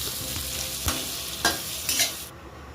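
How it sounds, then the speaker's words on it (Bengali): Thinly sliced onion sizzling in mustard oil while being stirred, a steady hiss with a few scraping strokes of the spatula, close and alone. "পেঁয়াজটাকে নাড়াচাড়া করে নিচ্ছি তেলের মধ্যে।"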